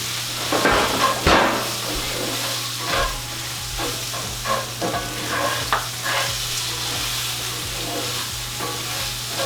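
Onion cooking in a pot with basil stems, a steady sizzle and frying hiss running throughout, broken by repeated scraping stirs and light utensil knocks against the pot, close and fairly loud.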